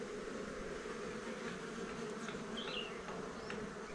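A very young honey bee colony buzzes steadily as it is settled into a hive outdoors under winter sun, a dense continuous drone close by with a few individual bees flying past.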